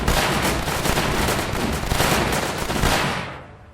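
Cannon and gunfire in the tower defense game Northend Tower Defense, a dense, loud barrage of rapid overlapping shots and booms that rattles on continuously, then fades away toward the end.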